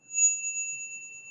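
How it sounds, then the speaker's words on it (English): A bell is dinged once, giving a clear, high, sustained ring that lingers and slowly fades, heard alone and fairly softly. "get ready to ding that bell"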